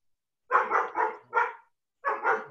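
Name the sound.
dog barking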